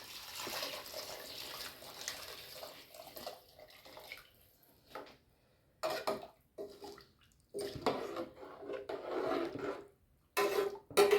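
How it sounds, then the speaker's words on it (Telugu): Five glasses of water pour into two and a half glasses of rice in a pot for Bengali-style tehri, a close gushing sound that comes in several separate bursts with short pauses between them. "ఇదిగోండి వాటర్ పోసేస్తున్నాను"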